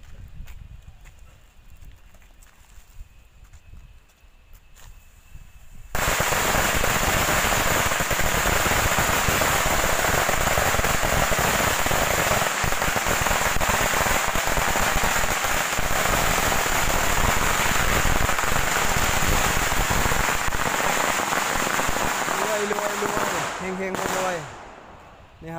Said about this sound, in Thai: มีการบูชาประทัดเพื่อสักการะเจ้าพ่อพระวรครับ